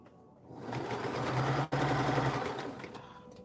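A sewing machine running a steady seam on a dress form cover, a close, even mechanical whir that starts up, runs continuously with one brief dip, then eases off.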